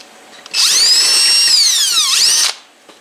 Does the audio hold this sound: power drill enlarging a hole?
yes